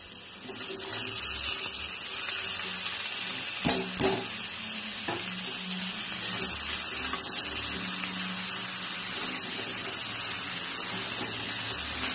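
Continuous sizzling and frying of prawns and vegetables in a pan, with a couple of sharp clatters of stirring partway through.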